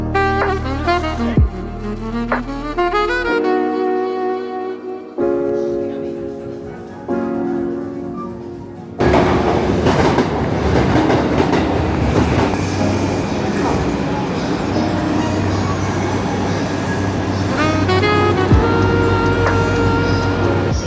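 Tokyo commuter train at rush hour, a loud continuous rumble of rail cars with tonal hums and squeals, a sharp shift to a denser roar partway through, crowd noise and voices mixed in.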